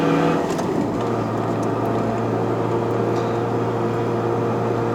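A Honda CR-Z ZF1 hybrid with a six-speed manual, accelerating at half throttle in normal mode up the mountain road to Genting in Malaysia: a steady, droning engine hum heard from inside the cabin, with no talk.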